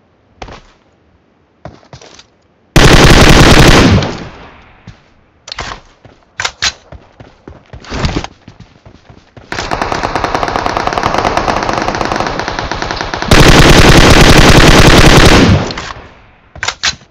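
Loud, close machine-gun fire from PUBG Mobile on the Karakin map comes in long sustained bursts, mixed with scattered single shots and quieter clicks between the volleys.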